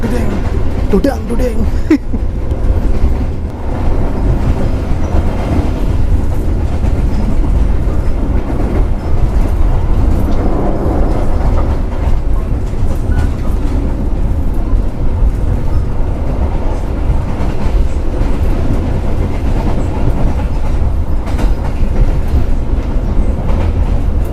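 Loud, continuous rumble and rattle of an executive-class train carriage clattering along the tracks in Indonesia with the door closed, steady throughout with faint voices in the background.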